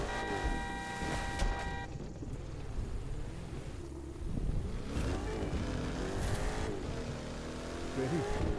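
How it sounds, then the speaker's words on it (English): A Ford Mustang in the racing video game The Crew 2 drives hard, its engine revving and shifting with tire squeal and passing traffic, loud and continuous for several seconds. "Ford Mustang keeps going straight"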